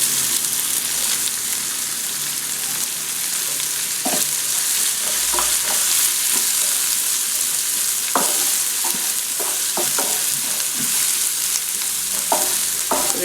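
Onions and curry leaves sauté in hot oil for an okra poriyal. A steady, close sizzle runs throughout, broken by scattered clicks and scrapes as the spoon stirs.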